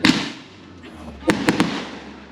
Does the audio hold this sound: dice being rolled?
no